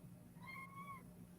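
A single kitten meow, drawn out and rising then falling, clear and fairly close, over a low steady indoor hum.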